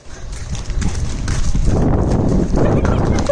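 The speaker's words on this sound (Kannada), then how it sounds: "ಕುದುರೆ ಓಡಿ ಬಂದಿತ್ತ" A horse runs along a road, its hooves clip-clopping in quick, close strikes that grow louder as it approaches, with voices heard alongside.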